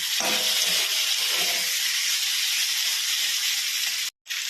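Water poured onto cauliflower and potato frying in spiced oil, for a rohu fish curry, sends up a loud, steady steaming hiss and sizzle that cuts off abruptly near the end.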